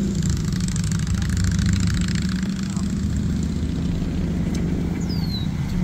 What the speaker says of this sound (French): Ouais, c'est des gros moteurs qui sont lourds.